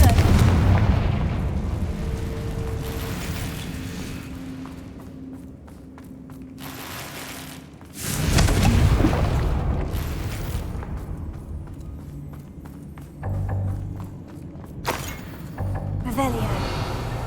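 Confringo blasting spell bursts in the Hogwarts Legacy video game, loud booming blasts around 0 and 8 seconds with smaller impacts near 13 and 15 seconds, rumbling tails between them and voices talking over parts of it.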